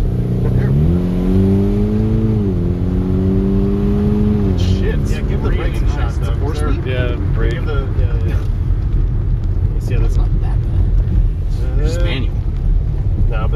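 A 1978 right-hand-drive Mini's engine revs while driving, rising in pitch through a gear then settling into a loud, steady drone with wind noise, heard from inside the car; people talk over it.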